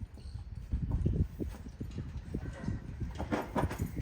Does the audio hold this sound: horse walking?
yes